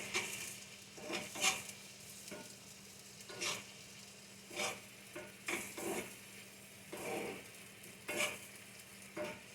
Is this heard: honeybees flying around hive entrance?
no